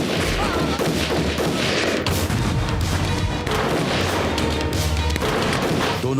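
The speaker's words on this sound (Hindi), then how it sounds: "दुश्मन के सैनिक बंदूकों से गोली चला रहे थे।" An animated battle with soldiers firing guns from both sides: dense, continuous bursts of gunfire mixed with heavy booms and crashes, loud and close, with no pause.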